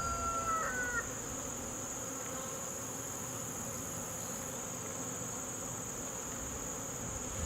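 Honeybees buzzing around an open hive while a nuc is being installed, a steady dense hum that fills the whole stretch, with no talking.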